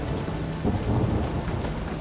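Rain and rolling thunder in The Witcher 3 game world: a steady broadband hiss of rainfall with a low, swelling rumble of thunder building in the middle, continuous across the whole moment with no voices.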